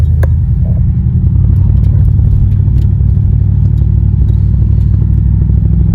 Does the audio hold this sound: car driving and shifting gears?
yes